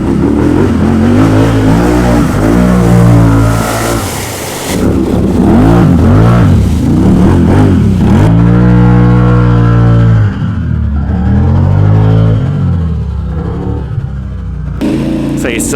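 A Can-Am Renegade ATV engine revs hard and loud throughout, pitch climbing and falling in repeated surges as the quad is ridden, with brief dips between pulls and nothing else standing out.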